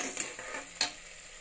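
Green chilies, capsicum pieces and a sprig of curry leaves sizzle steadily in a pan, with a couple of sharp spoon-stirring scrapes partway through and no voices.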